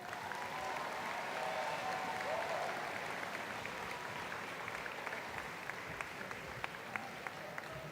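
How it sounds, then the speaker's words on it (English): Sustained audience applause at a graduation ceremony, a steady wash of many hands clapping that holds evenly throughout, with a few sharper individual claps standing out near the end. "please give a round of applause for these graduates"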